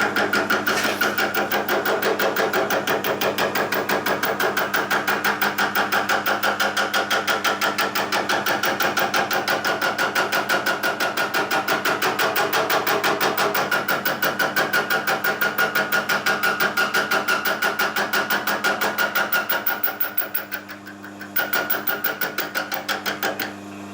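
BigstackD's Copper Chomper machine runs steadily for the whole stretch, a fast, even mechanical chatter with a constant hum, dipping briefly near the end before resuming.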